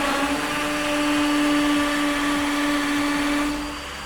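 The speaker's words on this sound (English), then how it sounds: "Drill a hole." Power drill boring a hole into cellular concrete for a wall dowel, a steady loud whining drone with a constant pitch that holds for about three and a half seconds, then begins to wind down.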